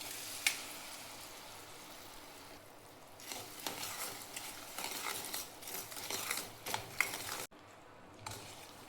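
Jaggery melting in hot ghee in a pan with roasted poppy seeds, a steady soft sizzle with occasional spoon stirring and scraping, close and moderately quiet, with a brief pause near the end.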